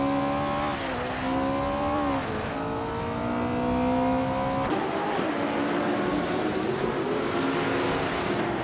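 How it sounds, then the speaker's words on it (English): The engine of a 1970 Porsche 917 LH race car in a video game roars loudly and steadily, its pitch rising and dropping through gear changes with other cars' engine noise around it, and no talking. "driving a 1970 Porsche 917 LH"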